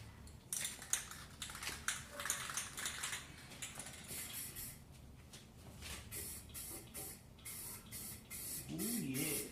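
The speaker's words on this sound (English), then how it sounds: "I'm gonna go ahead and lay down some of this purple." Purple spray paint is laid onto a primed Nissan 240SX in bursts of hissing spray, each pass starting and stopping at close range, with light clicks and no speech.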